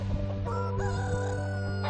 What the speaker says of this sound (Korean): 흥부는 태양이를 피해 다니며 계속해서 암탉들에게 구애를 하지만 암탉들은 흥부의 구애를 받아들이지 않는다